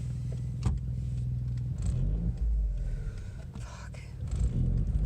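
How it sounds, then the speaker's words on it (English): An unhealthy-sounding car engine on a long-distance rally drive near the Azerbaijan–Kazakhstan border: a low, uneven rumble with rough surges and a faint whine, heard from inside the car, with no talking. "The engine does not sound healthy."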